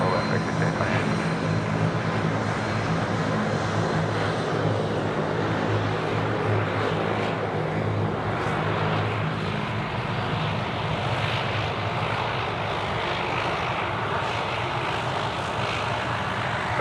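Aircraft engine noise at Sydney Airport, a loud, continuous roar of a propeller airliner that holds steady for the whole stretch with no break.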